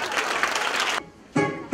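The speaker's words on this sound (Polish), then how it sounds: "Wielkie brawa dla nich." Audience clapping for a dance group at a women's congress event, a full burst of applause that cuts off abruptly, followed by two short loud music bursts.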